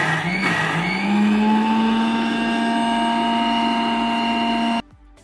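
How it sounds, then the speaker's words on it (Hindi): A mixer grinder whirs loudly at a steady high pitch, grinding boiled stinging nettle with green chili into a paste continuously for several seconds before abruptly shutting off. "अब हम इसको मिक्सी में पीस करके इसका पेस्ट तैयार करेंगे।"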